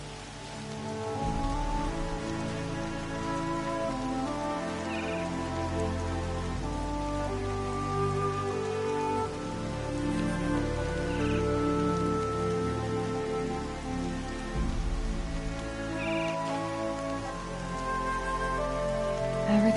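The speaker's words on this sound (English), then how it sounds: "Everything's sharp and looming in the rain." Steady rainfall in the Horizon Zero Dawn video game, a dense close patter of drops hitting surfaces with soft distant rumbles underneath, continuous and without speech.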